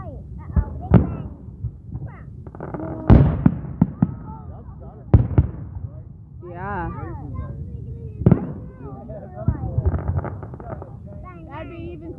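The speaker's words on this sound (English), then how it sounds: "I take him every year to see this fireworks." Fireworks bursting at an outdoor show with laser lights, a series of sharp booming pops and crackling bursts spread irregularly across the scene, with people chatting and a voice nearby between and under the blasts.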